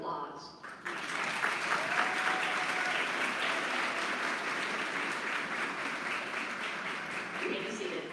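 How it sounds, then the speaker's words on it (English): At a college commencement, an audience applauds faculty and staff with a sudden swell of dense clapping after a brief quieter moment, then a steady, sustained roar of applause that holds to the end. "Please turn and recognize them by your applause."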